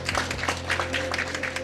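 An audience applauds to welcome speed skater Yang Yang on stage at a live event, a soft continuous patter of many hands with a steady hum beneath.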